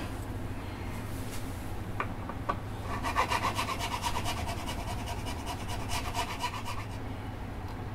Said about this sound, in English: This is a 54 gauge, so we're going to use our 55 gauge nut file.